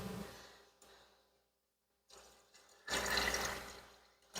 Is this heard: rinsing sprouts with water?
yes